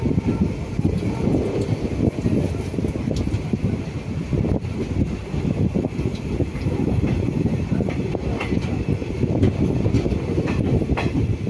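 Inside the 15603 Guwahati–Ledo Intercity Express passenger train running on rails, a loud continuous rumble carries rhythmic clickety-clack wheel beats and occasional faint squeals, with no voices.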